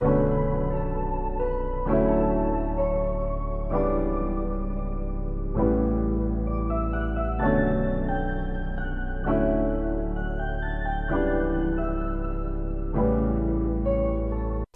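A piano melody loops steadily, new notes and chords arriving about every two seconds, played alone with no talking.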